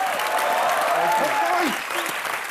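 Studio audience applause at a comedy talk show taping, a dense sustained wash of clapping with a voice speaking over it, then continuing slightly softer.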